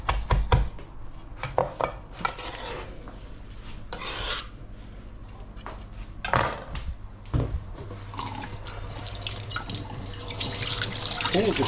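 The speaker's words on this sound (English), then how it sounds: "Okay, just rinse my hand." A hand is rinsed under a running kitchen tap, a steady splashing flow close by with a few clattering knocks against the sink, mostly in the first half.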